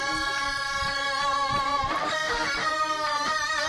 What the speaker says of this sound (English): you definitely didn't miss the guitar solo